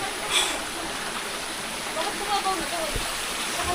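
Clear river water rushes steadily through a forest stream, a broad constant wash close by, with brief faint voices and small splashes over it.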